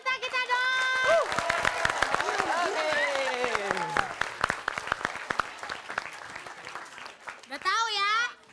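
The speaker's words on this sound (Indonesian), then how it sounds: "Tepuk tangan untuk semua peserta kita dong." Applause for contestants at a comedy variety show stage event, sustained clapping mixed with cheering, loud voices and music, with a burst of shouts near the end.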